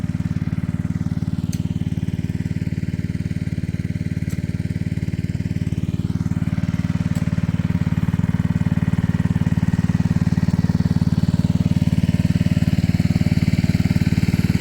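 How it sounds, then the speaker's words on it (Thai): A water pump engine runs steadily on a farm while rice seedlings are being sown, a loud continuous low drone with no pauses and a faint whine drifting above it. "นี่เครื่องสูบน้ำ"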